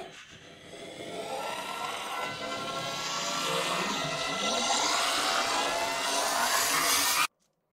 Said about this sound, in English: in order to make this into a cohesive sound effect with that rising pitch.